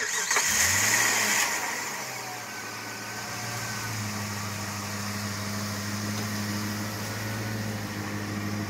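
A car engine cranks briefly and catches, then settles into a steady, quiet idle hum that carries on alone.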